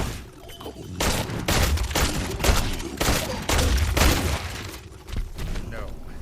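Rapid volleys of gunfire from the Tails of Iron boss fight against Bloody Whiskers, loud bursts of shots in quick succession with shattering crashes, heavy game effects layered over a low rumbling score.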